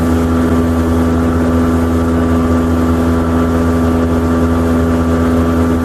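A 2022 Mercury 60hp outboard on a Starcraft boat running near 5,000 RPM, a loud steady droning hum with a constant pitch, heard alone throughout.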